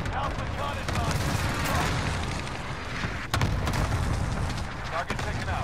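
Artillery strike landing in the military shooter Warzone Payload: a dense, sustained rumble of booms and blasts, with sharp impacts near the middle and end, under radio chatter.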